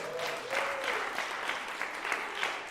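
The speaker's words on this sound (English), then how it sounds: "Can we get a round of applause for that?" An audience gives a round of applause for a Kennedy Center performance at a music festival, with steady, moderately distant clapping from a crowd throughout.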